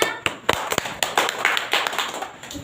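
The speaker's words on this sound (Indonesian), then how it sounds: "tepuk tangan untuk temannya" Students in a classroom give a short round of applause for a classmate: a few scattered, uneven hand claps, fairly close and moderately loud, with no one speaking.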